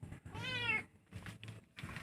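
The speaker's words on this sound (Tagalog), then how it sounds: "Kanihar ako nagpamati ani nga nagsigig miyaw." A cat meows repeatedly and close by: one clear, drawn-out meow followed by a few shorter, quieter cries in quick succession.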